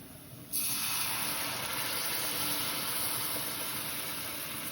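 Tempering poured into Kerala buttermilk curry (moru curry) bursts into a loud, steady sizzle and hiss that starts abruptly and holds at full strength to the end, with no talking over it.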